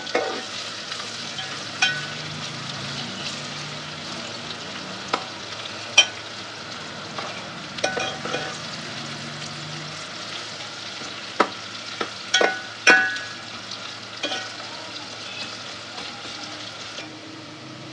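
Onions fry to light brown in a pan for a tori dish, sizzling steadily with scattered clicks and scrapes as a spoon stirs them, and no voices.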